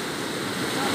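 Floodwater from a dam break rushes across a dirt country road, a steady, loud, roaring wash that fills the whole moment without pause.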